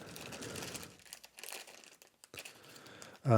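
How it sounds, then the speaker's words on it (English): Large plastic bags crinkle and rustle up close while a board game expansion is unboxed, coming in bursts separated by short quiet gaps before a louder sound closes the clip. "We got a couple larger plastic bags."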